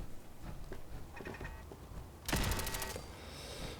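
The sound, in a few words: turret gunfire in the video game Fallout 4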